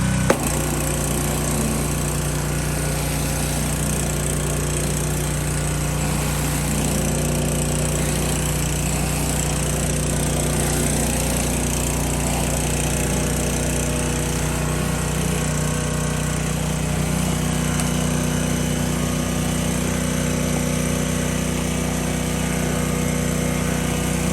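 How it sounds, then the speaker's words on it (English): A Harbor Freight Predator 3200 PSI gas pressure washer runs with a Ryobi 15-inch surface cleaner head attached, cleaning dirt off the ground with a loud, steady engine drone and a continuous spray hiss that never lets up. "We're gonna try this Ryobi pressure washer head over here and see if we can get some dirt off."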